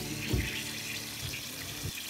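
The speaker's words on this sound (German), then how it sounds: "Wasser aus den Bergen, frisch aus dem Wasserhahn, aber heiß, heißes Wasser." Hot mountain water runs from a tap into a sink, a steady hiss of flowing water with a few soft low splashes, fairly quiet and without voices.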